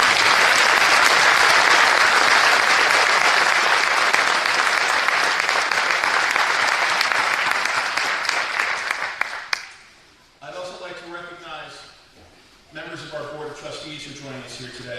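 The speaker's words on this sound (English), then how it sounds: "Please join me in a round of applause." Loud, sustained applause from a large audience at an academy commencement ceremony, a dense wash of clapping that slowly fades out after about nine seconds, after which someone speaks into a microphone.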